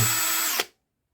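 A new Einhell cordless screwdriver whirs at a steady high speed for about half a second, then stops abruptly and quickly winds down, followed by a faint click.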